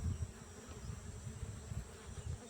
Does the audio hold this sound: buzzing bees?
yes